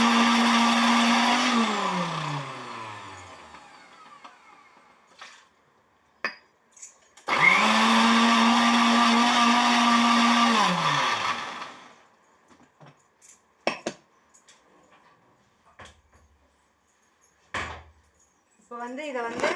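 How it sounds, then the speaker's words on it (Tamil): A mixer grinder whirs loudly in two long bursts grinding mukia leaves, winding down after each, with clinks and handling noises in between. "இப்போ மிக்ஸி ஜாரில் வந்து நான் இதை அரைச்சி மாவோடு சேர்த்து கலந்து பிசையணும்"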